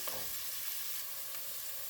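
Onion and mushroom sauté in a pan with a steady, close, broadband sizzle that holds constant throughout, with no voices over it.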